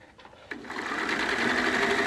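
Sewing machine with a walking foot stitching through a minky quilt, starting after a brief pause and then running in a steady, continuous whir close by.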